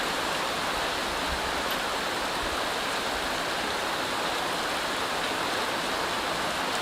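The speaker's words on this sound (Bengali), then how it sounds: "বাইরে প্রচন্ড বৃষ্টি হচ্ছে।" Heavy rain pours down in a dense, constant hiss, loud and unbroken throughout, with no voices.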